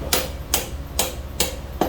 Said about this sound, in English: get my dead blow hammer and just knock